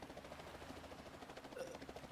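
A helicopter in the video game Heavenly Bodies, a steady low whirring drone with a faint rhythmic flutter, held at a soft, distant level throughout.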